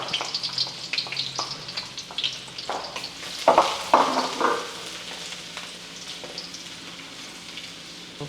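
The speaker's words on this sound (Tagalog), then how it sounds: "Kasunod, gigisa na natin ang bawang." Garlic sautéing in hot oil in a pan while preparing beef caldereta, a steady close sizzle with scattered crackles and a few louder spattering bursts near the middle, no talking.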